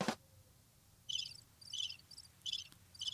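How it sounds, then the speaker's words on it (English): A cricket chirps in bursts of short, rapid trills repeated at a steady pace, clear and moderately close against a quiet background, following a brief sharp sound at the start. "The cricket."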